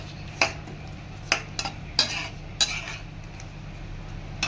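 Lentil fritters (bora) added to a simmering curry in a pot, several sharp spoon clinks and scrapes against the metal pot at irregular intervals over a quiet, low hum.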